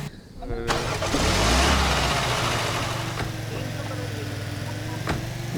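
A car engine in the Roblox game Dusty Trip cranks and catches, then settles into a steady low idle hum, loud and close, with faint clicks afterward.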